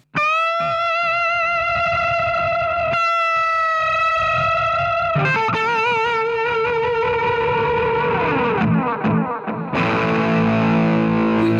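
An electric guitar plays sustained, distorted notes through a Flashback delay pedal, loud and alone. Repeating echoes pile up and swell as each note fades, and a new chord later brings a denser wash of trailing repeats.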